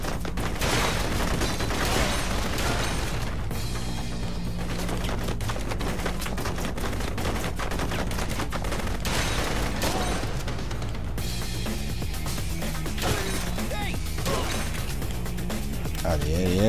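Gunfire from the rail shooter video game Blue Estate, with a shotgun among the weapons: dense, continuous bursts of shots and crashing effects over a busy game soundtrack, with a voice talking over it.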